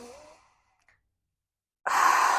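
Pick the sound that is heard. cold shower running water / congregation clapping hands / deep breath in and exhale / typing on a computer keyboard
deep breath in and exhale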